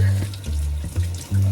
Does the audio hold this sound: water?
yes